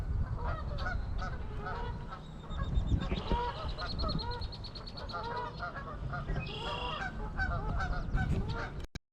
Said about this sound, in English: A lot of Canadian geese down at that end.